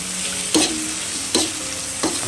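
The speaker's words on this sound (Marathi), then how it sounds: "उकळलेले मस्त फ्राय करायचे मग आता वरून थोडेसे बटाटे पण घातले" Clam curry with added potatoes fries in a pan, giving a steady sizzle broken by three distinct scraping stirs at a regular pace, close up with no talk.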